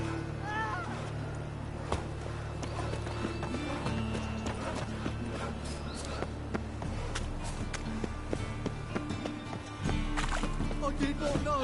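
Geralt's horse Roach moves at speed in The Witcher 3, with steady, close hooves clip-clopping on the ground beneath a layer of ambient game sound and faint background voices.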